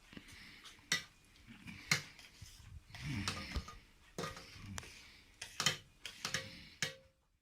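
Sugar being stirred into grapes in a pot for homemade grape syrup, with irregular clinks and scrapes of the utensil against the pot, a few sharp knocks and rattling bursts, fairly close and alone.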